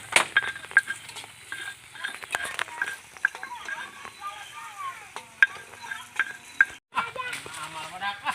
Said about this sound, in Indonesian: Lagi masak cabai guys.